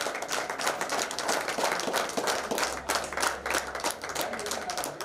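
Sustained, dense applause from an audience at a village prize-giving ceremony in Pachcha Gounden Palayam, Coimbatore district; many hands clap steadily throughout, with a voice faintly present underneath.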